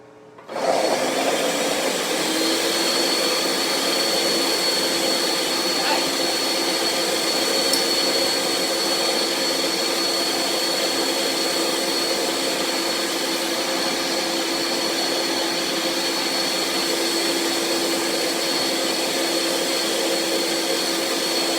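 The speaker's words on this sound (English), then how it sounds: "I'm just going to put this on the base and let it really get blended up" Blender whirring steadily as it purées hummus ingredients with olive oil, a loud continuous motor drone starting abruptly and holding for the full length without pause, no voices over it.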